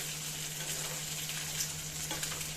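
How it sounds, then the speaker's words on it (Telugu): Mustard seeds frying in oil for a pumpkin chutney give a soft, even sizzle with faint crackles and pops, heard quietly and close over a low steady hum, with no talk. "ఇలాగ ఆయిల్లో ఆవాలు వేసి"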